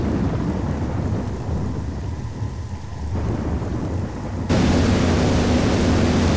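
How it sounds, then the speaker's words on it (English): Thunderstorm over a landing zone in Metroid Prime: steady heavy rain with low thunder rumbling throughout, swelling louder and brighter in the last two seconds, no voices. "it's still a bit ridiculous that you chose a place that's going through a thunderstorm as your landing zone"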